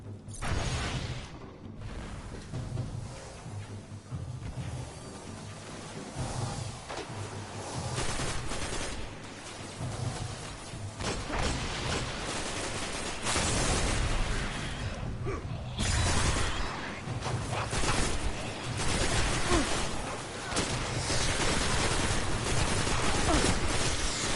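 Sniper gunfire in a PS4 shooter amid a long chaotic firefight, with sharp cracks, shattering and scattered bursts of shots at varying distances and steady loud action throughout.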